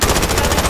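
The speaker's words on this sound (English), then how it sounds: "Now there's people from headquarters shooting at me." Enemy automatic gunfire in Call of Duty: Modern Warfare, a rapid burst of evenly spaced shots rattling close and loud for under a second.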